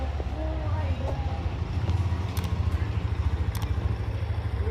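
A new Hero Xtreme 125R motorcycle running, a low, steady engine thrum with a throbbing pulse, heard close beneath scattered voices and some light clatter.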